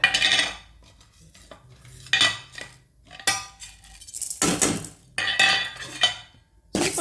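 Moong dal roasting in a pan on a stove, stirred with a metal spoon in bursts of scraping and clinking against the pan, with short quiet gaps between strokes and no talking.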